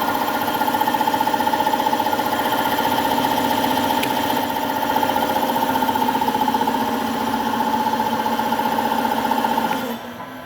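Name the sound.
air compressor running in a lab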